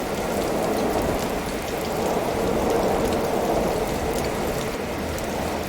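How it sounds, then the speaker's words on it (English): Acid rain pouring in the video game Waste Eater, a steady dense hiss of rainfall on surfaces with a constant even wash of drops and no pauses. "I see a lot of acid rain"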